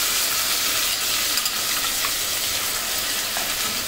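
A paste of onion, garlic and garam masala with cardamom, cloves and black pepper sizzles and fries steadily in a pan for a chicken dish, a continuous loud hiss with no talking.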